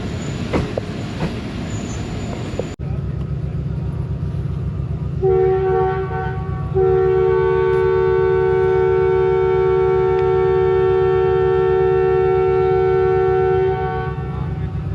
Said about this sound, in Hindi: ये दोस्तों इनिशियल डिपार्चर विसल हो गया चीचावतनी रेलवे स्टेशन से 7 अप तेज़गाम का